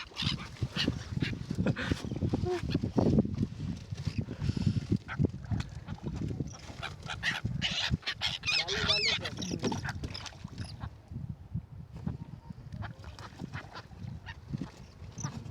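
A flock of seagulls at Nalsarovar bird sanctuary, where people are feeding them, gives dense overlapping squawks and cries. The calls mix with people talking over steady outdoor background noise.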